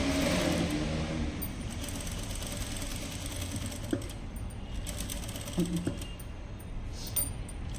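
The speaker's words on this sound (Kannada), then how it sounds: "ಇಲ್ಲಿಂದ ಸ್ಟಾರ್ಟ್ ಮಾಡಿ ಸ್ಟಿಚಿಂಗ್" A sewing machine stitches a small child's top, its motor humming in a steady, even run with a few faint clicks and taps, close by and without talk.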